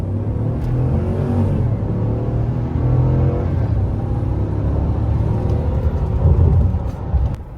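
A 2014–2018 GMC Sierra or Chevy Silverado pickup fitted with an Edge Pulsar LT launches from a dead stop at full throttle. The engine roar climbs steadily in pitch as it pulls hard, loud and close throughout with no talking.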